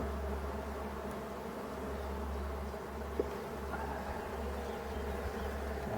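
Honeybees droning around an opened Dadant hive in a forest apiary during a frame inspection, a dense steady buzz close by with a low hum underneath and one faint click.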